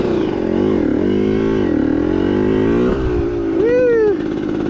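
A 1994 Honda CR125 two-stroke dirt bike revs and rides continuously up close, its engine pitch rising and falling through gear changes, with a brief whine near the end.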